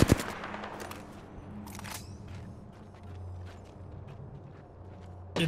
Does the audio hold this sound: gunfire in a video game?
yes